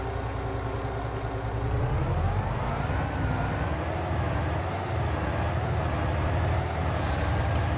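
A truck engine in the Farming Simulator 22 video game drones steadily and loudly, a constant low rumbling hum with shifting harmonic pitch as the load changes.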